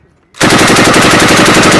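A loud, close burst of rapid automatic gunfire during US Marines training in Finland, starting abruptly after a brief quiet and continuing as a dense, evenly spaced stream of shots.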